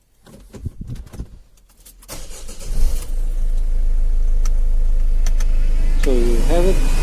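Peugeot Partner heater blower fan spinning up after the key is turned, a steady rising whoosh that settles into a constant loud hum, preceded by clicks and handling noises, with a brief squeaky sound near the end.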